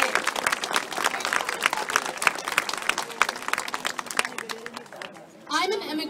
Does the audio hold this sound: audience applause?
yes